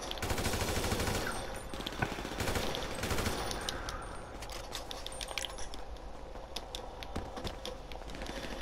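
Rapid bursts of automatic gunfire in a GTA Online deathmatch on a railyard map, dense rattling volleys with sharp transients throughout, loud and close with no talk.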